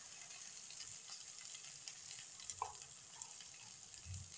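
Bhindi (okra) sabji is sautéed in a pan, making a faint, steady sizzle with a couple of soft clinks and stirring knocks.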